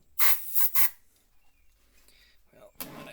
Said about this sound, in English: Spray this down with a little brake cleaning.